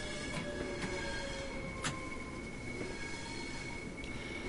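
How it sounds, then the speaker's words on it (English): Steady train wheel flange squeal in Train Sim World 2, a sustained high-pitched whine with bright tonal streaks over continuous rolling rumble, loud and close, with a few sharp squeaky accents and no talking. "I love this flange squeal."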